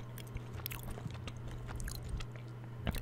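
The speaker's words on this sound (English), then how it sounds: "Chewing a piece of bacon right now." Close, soft chewing of a piece of bacon from a cheeseburger with sauce and cheese, wet crunchy bites and squishes repeating steadily and faintly with no talk.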